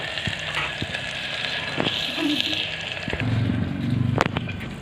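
Onions, green chillies and garlic sizzle steadily in hot oil up close, with occasional clicks and scrapes of stirring over the constant crackle.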